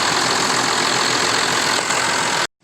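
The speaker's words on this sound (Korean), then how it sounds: "엔진 소리도 좋습니다" A steady, loud engine of a 2008 Kia Mohave 4WD KV300 SUV idles close by, a constant rumbling drone that cuts off abruptly near the end.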